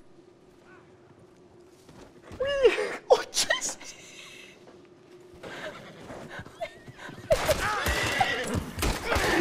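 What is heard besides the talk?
horse jumping and neighing in video game Red Dead Redemption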